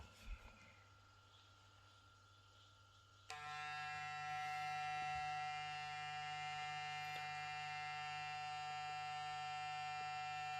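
A Kiepe Superfast V12 magnetic hair trimmer switches on abruptly after a quiet moment and holds a steady, loud, high-pitched electric buzz with a constant hum, running alone without talk.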